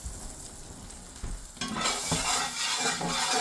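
French toast sizzles in melted butter in a pan, a quieter hiss that swells suddenly into a louder, crackling fry partway through, close up with no voices.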